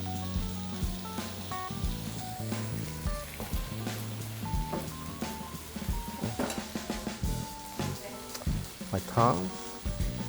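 Miso marinated black cod sears in a hot pan with a steady sizzle and popping, while people talk nearby and utensils clatter occasionally.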